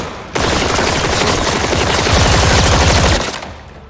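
Sustained automatic gunfire from weapons training in the film Riders, a dense, loud, continuous rattling burst of rapid shots lasting several seconds with no talk.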